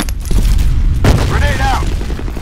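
A grenade bursts in the shooter game F.E.A.R. Combat with a sudden loud boom that rumbles on under continuing game noise, and a voice speaks just after the blast.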